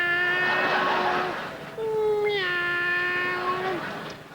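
A voice imitates a cat, drawing out two long, loud meows one after the other, each with a rising, bending pitch, heard alone in a comedy setting.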